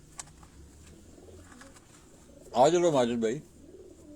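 Pigeons coo in a short warbling burst near the end, loud and close, after a stretch of quieter background with someone talking.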